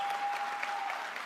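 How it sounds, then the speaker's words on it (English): Audience applause at a university event, a dense steady wash of many hands clapping close by through the whole stretch, with a faint thin tone running underneath. "I appreciate the applause"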